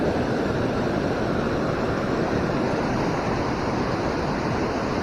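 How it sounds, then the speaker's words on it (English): River water on the Fox River crashes steadily down a concrete fish ladder, a dense, loud, unbroken roar of churning water heard up close, with no pauses. "That water crashing into it from the stairs."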